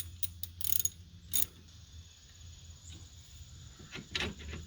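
A ratcheting wrench snugs up a bolt on a Ford 909 rotary cutter, giving a few quick bursts of metallic clicking separated by pauses, close and fairly quiet outdoors.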